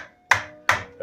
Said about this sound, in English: So it's getting heavy on the whisk.